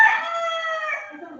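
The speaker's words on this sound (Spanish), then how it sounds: "gallo cantó pero duro" A rooster crows loudly and close by in one long sustained call that fades out, heard during an online class on electric force.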